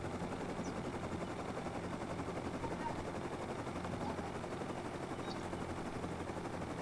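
Helicopter in the survival video game Rust, a steady droning rotor and engine roar that runs unbroken and fairly loud for the whole stretch, with faint sharp ticks on top and no voices.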